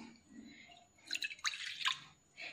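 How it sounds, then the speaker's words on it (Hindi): Water being poured into half a kilo of yogurt for kadhi pakora, giving a few quiet dripping, splashing bursts that stand alone without talk. "थोड़ा सा मैं पानी इसमें शामिल करती हूँ।"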